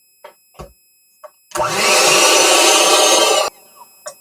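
An electric mixer whirs at high speed for about two seconds, beating powdered sugar and milk into a glaze for a bundt cake. A few brief knocks and scrapes come before and after.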